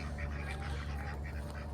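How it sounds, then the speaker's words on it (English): Ducks quack faintly on a farm with agroforestry gardens, a few soft calls over a low steady background. "Happy ducks."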